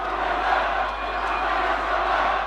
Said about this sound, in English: Cheering crowds in Benghazi greeted David Cameron and President Nicolas Sarkozy of France